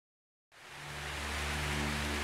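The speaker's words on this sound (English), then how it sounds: "Oh, raining." Rain in the video game Selma and the Wisp begins after a short silence, a steady broadband hiss that swells in quickly and keeps building into a continuous downpour.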